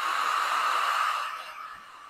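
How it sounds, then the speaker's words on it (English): A hair dryer blows steadily with a high, whining hum close by, easing slightly in the last second. "Hopefully over this squawky blow dryer"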